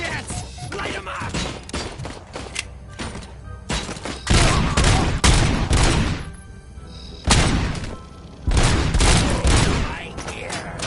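Heavy enemy gunfire in the video game RoboCop: Rogue City, dense bursts and booming volleys erupting loudly in waves, with a voice shouting over the shots.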